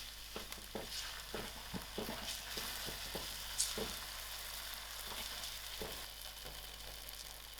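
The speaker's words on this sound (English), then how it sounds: "So to this, I'm going to add in my ginger garlic and allow this a few seconds." Ginger garlic paste sizzles steadily in a pan with browning onions, a continuous bright frying hiss broken by occasional stirring scrapes and taps, close and fairly quiet, with no talking.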